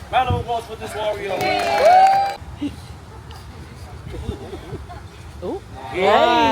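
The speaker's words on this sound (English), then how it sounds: "Round of applause for this warrior." A lagoon cruise crowd in the Cook Islands gives scattered cheers and claps for a tree-climbing warrior, a loud burst at the start fading into murmuring chatter before a final swell of shouts.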